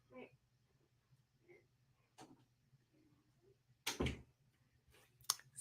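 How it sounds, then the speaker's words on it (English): An indoor door is shut with one solid thud midway, with lighter knocks around it and voices talking faintly in the room. "Close the door."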